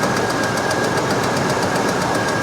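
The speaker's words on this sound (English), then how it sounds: "listen to that engine too. Listen to this." A Jeep Liberty engine idles rough, close and loud, with a fast, steady knocking pulse and a thin whine over it that run without a break.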